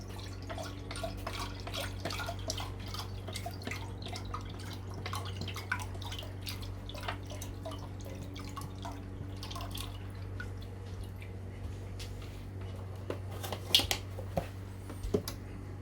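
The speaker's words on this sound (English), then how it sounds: "inside this saucepan is going to go a mixture of vegetable broth" Vegetable broth poured into a medium saucepan gives a continuous, close trickle of liquid with scattered drips and light splashes, steady throughout and slightly busier near the end, against a low hum.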